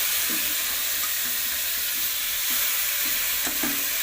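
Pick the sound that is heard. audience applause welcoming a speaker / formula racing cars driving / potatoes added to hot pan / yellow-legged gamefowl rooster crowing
potatoes added to hot pan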